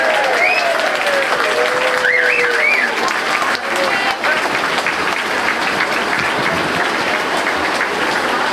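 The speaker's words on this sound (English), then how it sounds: "Give a great round of applause." A festival crowd applauds for an ex-professional footballer, with dense, steady clapping and a few voices whooping early on before it settles into even applause.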